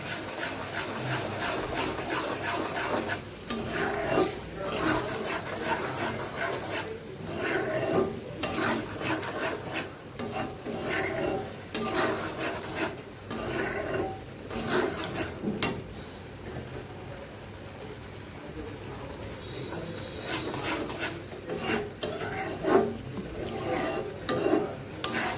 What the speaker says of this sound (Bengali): একদম কচি ডাবের মালাই, সেটা আমি দিয়ে দিচ্ছি। ভালো করে কষিয়ে নেব।